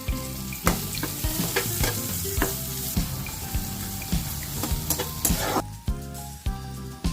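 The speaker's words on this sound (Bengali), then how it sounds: "ভাজা বাকি তেলের মধ্যে দিয়ে দিচ্ছি পেঁয়াজ কুচি।" Chopped onions sizzle and fry in hot leftover oil for a Bengali fish curry, while a spoon clanks repeatedly against the pan in an uneven stirring rhythm, loud and near.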